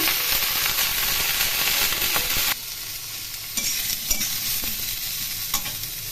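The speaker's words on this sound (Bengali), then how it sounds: "ফুলকপি খুব ভালো করে ভেজে নেব" Cauliflower pieces fry in hot oil over tempered spices for a rohu fish curry, making a loud, continuous crackling sizzle with scraping stirs. The sound drops to a softer hiss partway through, and occasional clicks follow.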